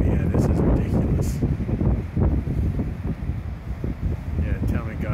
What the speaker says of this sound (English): hopefully the wind's not too bad